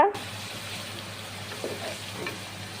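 Garlic and ginger paste hits hot oil after fried onions, a sharp clatter at the start followed by a steady, moderate frying sizzle with light stirring sounds.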